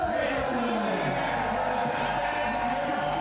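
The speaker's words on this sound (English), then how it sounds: "the crowd is hyped" A crowd at the FISE Montpellier 2024 roller freestyle park contest cheers and roars in a steady, dense wash, mixed with a commentator talking over it.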